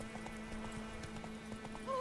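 Roach the horse trotting in The Witcher III, a steady rhythmic clip-clop of hooves under a low constant hum, with a brief rising tone near the end.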